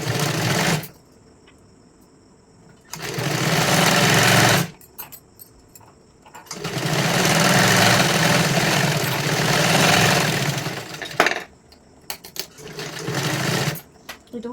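Sewing machine stitching a size 44 katori blouse, running in bursts of steady whirring rattle separated by quiet pauses, close and loud.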